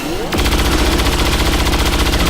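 Rapid automatic gunfire from the video game XCOM 2, a loud burst of closely spaced shots that starts after a brief lead-in and continues to the end without talk.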